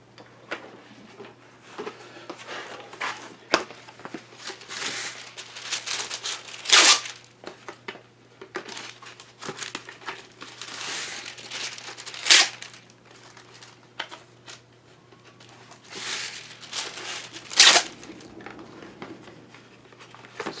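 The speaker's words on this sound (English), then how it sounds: "This is way more wax paper than I need," Wax paper being torn off a roll and crumpled for a woodworking project, with bursts of sharp crinkling and several loud ripping tears spread over a long stretch, no talk.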